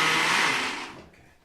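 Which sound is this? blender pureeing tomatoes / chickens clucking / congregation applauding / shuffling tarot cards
blender pureeing tomatoes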